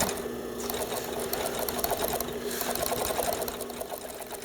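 A sewing machine runs continuously, stitching the inseam of a pair of jeans with a fast, even mechanical rattle, close and loud throughout.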